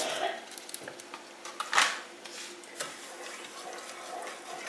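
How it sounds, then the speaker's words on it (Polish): Hot water is poured from a glass onto lemon jelly to dissolve it, giving a soft, fairly quiet splash with one brief louder gush midway and faint clinks around it. "I zaczynam od rozpuszczenia galaretki cytrynowej w jednej szklance gorącej wody."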